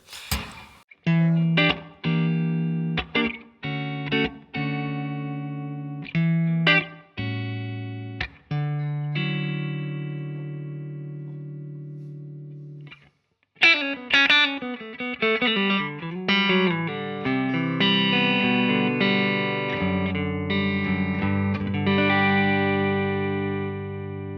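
An electric guitar with active pickups, tone knob fully up, plays clean, distinct notes and short chords with pauses, then shifts into a denser, sustained passage of ringing chords and melodic lines.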